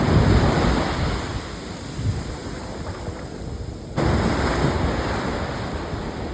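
Waves washing onto an empty beach in Visakhapatnam, a loud continuous surf roar mixed with wind buffeting the microphone, with the level dipping slightly in the middle before surging back.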